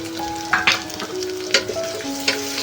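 Tomato goes into a frying pan, with a steady hiss of frying and a few quick stirring scrapes; a faint tonal hum runs through the background.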